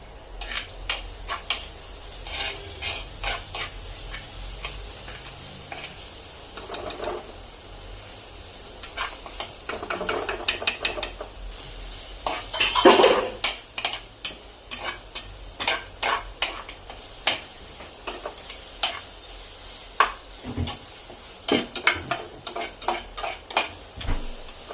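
Ginger garlic paste being stirred and fried in a pan for a chicken dish, with a steady sizzle and repeated scraping stirs throughout, one louder burst of hiss partway through, no voices.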